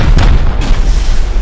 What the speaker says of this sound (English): Rocket up.